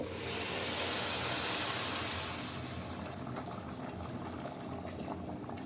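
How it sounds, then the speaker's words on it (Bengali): Boiling water is poured into a pot of fried rice for chicken pulao, making a steady close hissing rush that is loudest at first and eases into a softer simmer, with no voices. "ভাজা হয়ে গেছে তো আমি এখন ফুটন্ত পানি দিয়ে দেবো"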